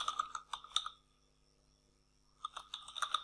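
Bursts of quick keystrokes on a computer keyboard, close and fairly soft, with a pause of about a second and a half of near silence between the two runs of typing.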